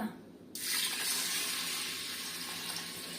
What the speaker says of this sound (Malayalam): ഒഴിക്കാം വെള്ളം ഒഴിക്കാം